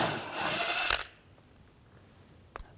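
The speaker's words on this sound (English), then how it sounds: "Take this nut off." A ratchet with a 13mm socket works a nut loose on a rear coil spring mount bracket of a 2007-2013 BMW 328i, with a rapid clicking burst up close, then near quiet and a couple of brief sharp clicks.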